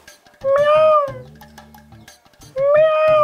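A cat gives two drawn-out meows close by, separated by a short stretch of low rumbling.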